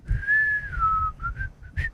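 A person whistles a short tune, a smooth sustained tone sliding down, then a few brief chirped notes and a final quick rising blip, close and clear without talking.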